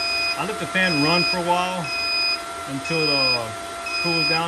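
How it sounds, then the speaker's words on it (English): A YONG HENG YH-QB12-S high-pressure air pump gives short electronic beeps at regular intervals as it reaches 250 bar and shuts off, under someone talking and a steady fan hum. "that beeping noise is telling you that it reached up to the 250 mark"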